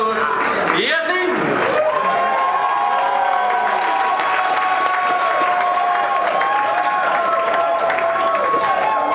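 A poetry slam audience breaks into loud, sustained applause with cheers and whoops for a poet, filling the room continuously while a voice is heard briefly over it.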